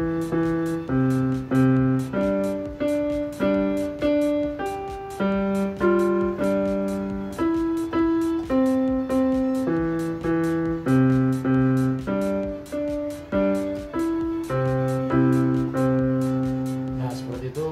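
Piano playing a song, played by a beginner who is learning the instrument, a steady melody of clear, evenly spaced notes over a repeating left-hand accompaniment, close and moderately loud, with no talk.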